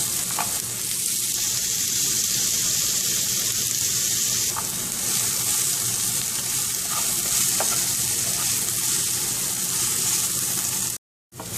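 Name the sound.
sautéing onion with ginger, green chili, curry leaves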